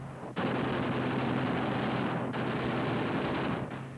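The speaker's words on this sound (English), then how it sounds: "Cyclic rate of fire, 800 rounds a minute. You've got 8 guns, 106 bullets a second." Eight wing-mounted machine guns on a P-47 Thunderbolt fighter fire in one loud, dense, unbroken burst of nearly four seconds, with a brief dip midway and no voices.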